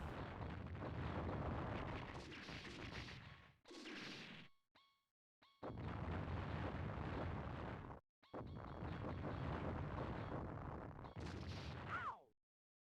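Gunfire in a PlayStation demo disc video game: long stretches of loud, dense noise broken by short pauses and a few sharp hits, with no talking.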